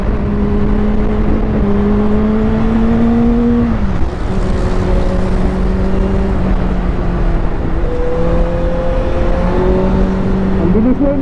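A QJ Motors SRK 600RC motorcycle accelerating hard, engine pitch climbing through the revs, then dropping with each quick gear shift, repeated several times over roughly eleven seconds, close and loud with steady wind rush.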